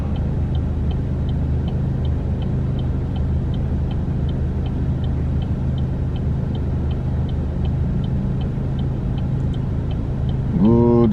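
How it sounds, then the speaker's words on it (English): An old Ford tow truck drives by on a cold morning, a steady loud engine rumble with a regular ticking pulse running throughout and a brief rising mechanical whine at the very end. "Old Ford tow truck."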